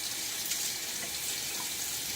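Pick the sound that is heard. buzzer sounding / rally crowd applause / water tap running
water tap running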